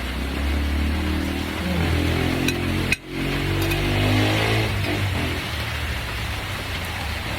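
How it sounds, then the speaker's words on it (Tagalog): Heavy rain pours steadily onto a garden, a dense, even hiss that continues unbroken, with one brief dropout partway through. "Kasi ganyan kalakas ng ulan, di man nakakabaha."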